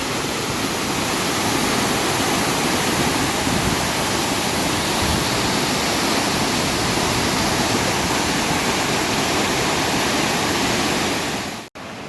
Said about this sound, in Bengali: আমরা খৈয়াছড়া ঝর্ণায় আসছি, চট্টগ্রামের মিরসরাই উপজেলার খৈয়াছড়া ইউনিয়নের খৈয়াছড়া ঝর্ণা